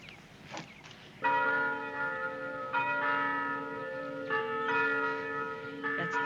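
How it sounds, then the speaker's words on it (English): A mission chapel bell rings repeatedly, rich resonant strikes every second or so, each ringing on and overlapping, moderately distant in a quiet outdoor setting. "That's the bell from the mission chapel."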